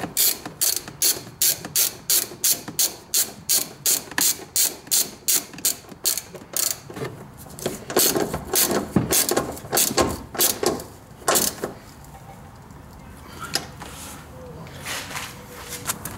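A hand ratchet snugs down coilover top nuts on a classic Honda, rapid even clicking bursts loud and close, slowing into scattered turns with some shop noise.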